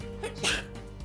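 A single short sneeze bursts out in a nursing simulation setting, one sharp, moderately close blast over a quiet room hum.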